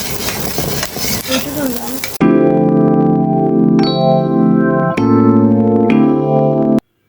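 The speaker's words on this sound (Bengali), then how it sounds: "ওই কড়াইতে আবারও সরিষার তেল দিয়ে দিয়েছিলাম এবং তাতে শুটকিগুলো বেশ ভালো মতো ভেজে নিচ্ছিলাম" Dried lotia fish fries in mustard oil in a wok, giving a loud, steady, close sizzle that runs for several seconds, with a brief bit of speech-like noise before it and musical tones over the frying.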